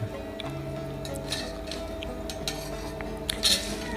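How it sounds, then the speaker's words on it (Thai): Shredded green papaya is tossed with seasoning for papaya salad, making soft, close clicks, light taps and moist squelches in an uneven rhythm, with a brighter clink near the end. "คลุกเข้าเครื่องแล้วก็ เอาเส้นมะละกอใส่เข้าไปเลยพี่น้อง"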